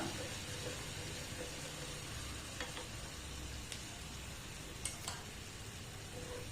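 Suzhiyam sweet filling with strained jaggery is stirred in a pan, giving a faint, steady sizzling hiss with a few soft scraping touches of the utensil.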